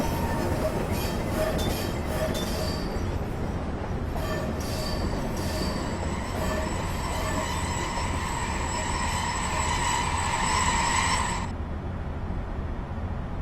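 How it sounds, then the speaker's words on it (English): Train wheels squeal as a locomotive slows to a stop in Train Simulator 2015 on the New York New Haven route, a thin shrill screech rising over steady rolling rumble and fading as it halts. "like that squeal as it stops."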